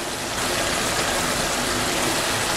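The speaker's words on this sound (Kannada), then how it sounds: "ಈಗ ನೀರು ಹಾಕ್ತಾ ಇದ್ದೀನಿ." A glass of water gushes into a cooking pot of chicken as a steady, full rush of noise that begins abruptly after a brief moment and continues evenly to the end.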